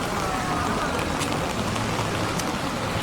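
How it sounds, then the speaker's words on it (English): Heavy rain pouring on London streets, a loud, constant hiss of downpour splashing on pavement that stays dense and unbroken throughout. "It's raining a lot. It's not just drizzle. It's raining. It's pouring."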